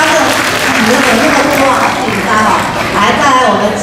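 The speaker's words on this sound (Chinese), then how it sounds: "再给我们掌声鼓励一下。" A crowd at a kindergarten graduation ceremony claps steadily and loudly for a child's mother, with voices audible over the applause.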